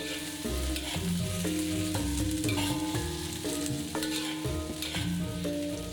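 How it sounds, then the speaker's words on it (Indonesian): Tomatoes and chilies stir-fry in a pan with a loud, continuous sizzle, and a spatula scrapes and tosses them in repeated strokes throughout. There is no speech. "Setelah itu kita tumis 1-2 menit hingga sedikit layu."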